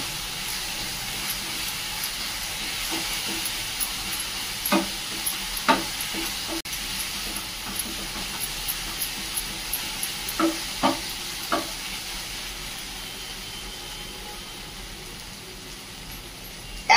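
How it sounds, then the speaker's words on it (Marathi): Spices sizzling and being stirred in a pan with turmeric, red chilli powder, asafoetida and carom seeds, a steady hiss punctuated by scattered spoon scrapes, with no talking. "अशा पद्धतीने आता छान असे मसाले परतून घ्यायचे."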